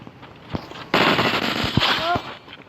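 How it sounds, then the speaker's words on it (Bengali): Video game Uzi gunfire during a headshot: a rapid, loud burst of automatic fire that cuts in abruptly, with a few sharp pops before it and game effect sounds layered over the burst. "উজি দিয়ে হেডশট মেরে দিয়েছি।"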